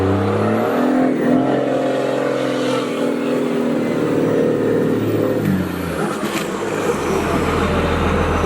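A gasoline-powered Cummins 4x4 truck revs hard while climbing out of a muddy river, its engine roaring steadily and loud up close, with a turbo-like whine rising toward the end.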